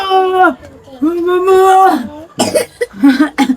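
A voice hums or speaks in drawn-out tones, followed by a few rough, bursty coughs close to the mic.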